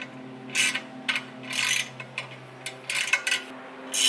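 A ratchet clicks in short bursts while the fastener on a Ford Mustang MGP brake caliper cover is tightened, close and fairly loud with brief pauses between strokes.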